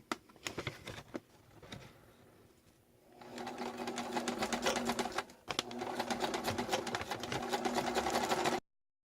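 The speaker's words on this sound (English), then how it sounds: "I'm just going to use my sewing machine presser foot or the power foot and sew." A sewing machine with its presser foot stitches lace trim onto paper junk journal pages. Quieter handling comes first, then a steady, close mechanical stitching whir runs continuously, with one brief pause, before stopping abruptly.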